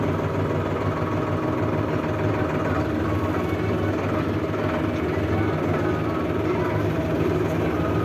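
A small tractor engine rumbles steadily and close while driving slowly in low gear, a continuous low drone with no pauses.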